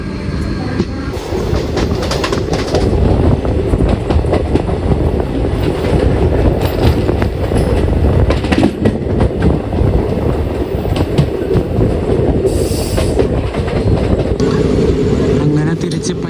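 A passenger train approaching a railway station in the evening runs loudly and steadily, its rumble and rhythmic clattering wheels filling the air, with a brief high squeal partway through.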